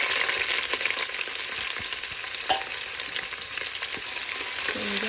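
Large onions sizzle steadily in hot oil with whole cloves and cardamom for a home-made kuska biriyani, making a continuous loud crackling hiss with occasional stirring clinks.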